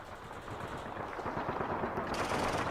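Rapid bursts of automatic gunfire rattle continuously, sharp repeated cracks blending into a dense, loud volley with no pause.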